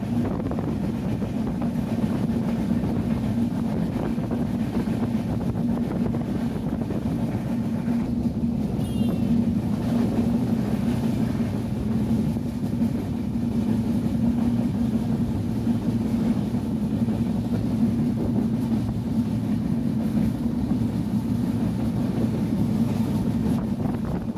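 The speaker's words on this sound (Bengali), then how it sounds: "আমাদের ট্রেনটি ছুটে চলছে আমের রাজধানী রাজশাহীর দিকে" Banalata Express passenger train running from Dhaka toward Rajshahi, a steady low rumbling roar with rushing wind noise heard from inside, continuous and even for the whole stretch without breaks.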